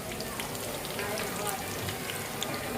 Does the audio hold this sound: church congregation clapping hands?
no